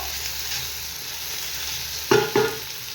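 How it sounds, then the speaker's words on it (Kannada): Onions frying in a pan for mutton donne biryani give a soft, steady sizzle, joined near the end by two brief stirring scrapes, with no talk. "ಈರುಳ್ಳಿ ಫುಲ್ ಚೆನ್ನಾಗಿ ಫ್ರೈ ಆಗಿದೆ"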